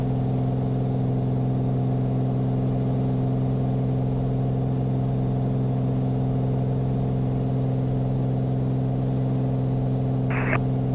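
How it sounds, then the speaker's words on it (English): Aircraft engine at the Oshkosh AirVenture 2023 Fisk arrival, a steady loud droning hum with strong low harmonics that holds throughout, with a brief higher burst near the end. "And now he's accelerating"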